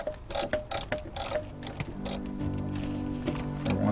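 A ratchet tightening bolts on a Chevy HHR transmission being reinstalled in a driveway, giving a series of quick clicking bursts up close, followed by a steadier mechanical hum.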